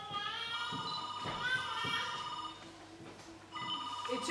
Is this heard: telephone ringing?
yes